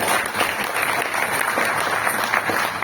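An audience at a speech event in Rajgir, Bihar claps in a dense, steady roar of applause that continues throughout at even loudness.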